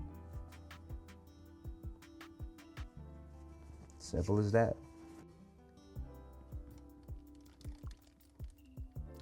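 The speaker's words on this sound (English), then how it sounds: "Take your time and pour." Melted candle wax poured into a glass, a brief liquid pour lasting about half a second in the middle, set among a person's steady talking and light handling clicks.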